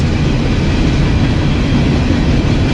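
A long freight train rolls past close to a small breakfast restaurant in Splendora, Texas, a loud, steady broadband rumble and roar with no break or talk over it.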